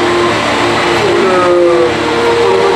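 Engines of the riverboat Molly Brown at Disneyland Paris run steadily, a loud continuous mechanical drone with a faint tonal whine rising and falling, close and with no voices.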